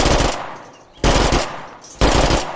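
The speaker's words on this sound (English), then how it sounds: "we have the Spec Ops Vector SMG. It's a sighted version of the Vector, basically. It has a burst," Spec Ops Vector SMG in State of Decay 2 fires three loud full-auto bursts, each starting abruptly about a second apart and fading into a decaying echo before the next.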